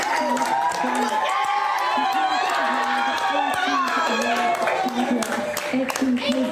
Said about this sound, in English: The crowd is going crazy here in Kenya